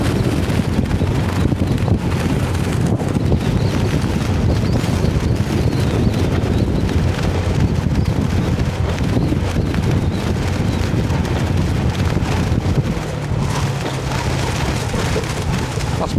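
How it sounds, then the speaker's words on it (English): Strong wind on a road in Pattaya, a loud continuous broadband roar buffeting the microphone for the whole stretch, with no talk. "Still very windy."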